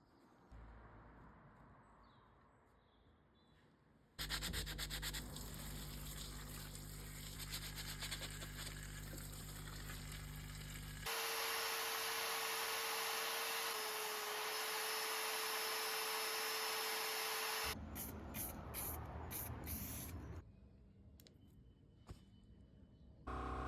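A dry ice blaster cleaning grease and oil off Rolls-Royce Corniche engine parts in a garage, a loud, steady hissing blast that runs in long sustained bursts with brief pauses between them.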